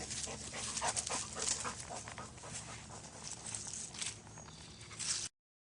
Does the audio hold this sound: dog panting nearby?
yes